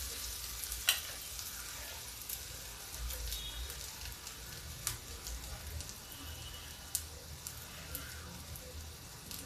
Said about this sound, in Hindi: अब इसको धीमी आंच पे एक एक बनाएंगे, ज़्यादा तेल नहीं डालेंगे।